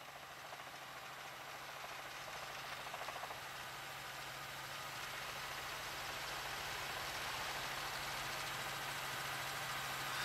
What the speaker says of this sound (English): they're up over it, the Firebird helicopter.